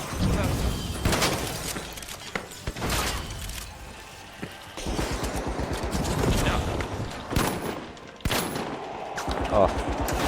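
Bursts of rapid gunfire crackle repeatedly, loud and close, in the video game The Finals, with a voice talking over parts of it and brief pauses between volleys.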